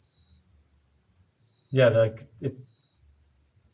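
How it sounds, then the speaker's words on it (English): Crickets make a steady, faint high-pitched hum that runs continuously through the background, with a voice briefly speaking over it. "It's probably the crickets."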